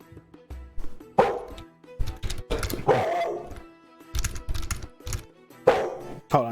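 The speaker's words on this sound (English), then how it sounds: "My dog is going crazy over something." A dog barks in repeated bursts, loud and close, with irregular gaps between the outbursts and no talk over them.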